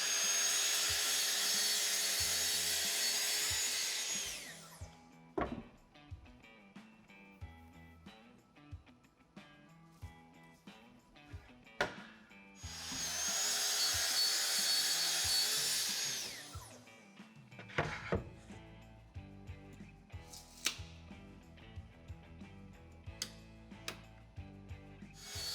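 A saw cuts through wood in two long bursts of harsh rasping, separated by scattered knocks and clunks of handling the pieces.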